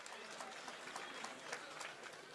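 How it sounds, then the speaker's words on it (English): A crowd at a combat fight event in Windham, New Hampshire applauds the two fighters after a four-round bout: a brief, distant, fairly faint patter of many hands clapping. "how about a round of applause for both of these combatants"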